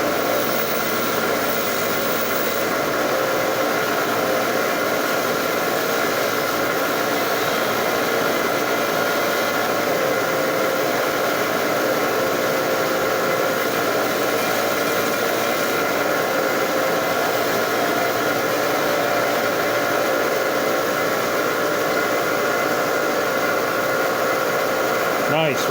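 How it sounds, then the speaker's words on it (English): A motorised wire wheel cleans vintage brass hinges from an old carpenter's tool box, giving a loud, steady whirring and grinding that runs unbroken throughout. "we're going to hit this brass on the wire wheel"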